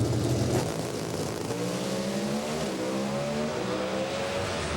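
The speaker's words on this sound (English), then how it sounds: "Great drag race" Drag race cars at the 2006 NHRA Toyo Tires Nationals roar down the strip in a loud, sustained engine howl, pitch climbing in stepped gear shifts over the full stretch with no talk.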